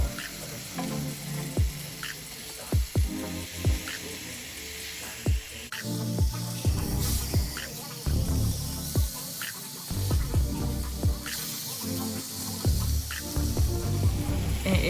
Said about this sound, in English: you want to go ahead and flip the salmon over, and at this point your salmon should have a really nice sear on the front side